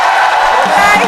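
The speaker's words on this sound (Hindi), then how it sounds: "नवविवाहित जोड़े के लिए एक बार जबरदस्त और जोरदार तालियां होनी चाहिए" A studio audience at a comedy talk show breaks into loud applause and cheering for a newlywed couple, a dense, continuous roar of clapping and crowd noise filling the whole moment.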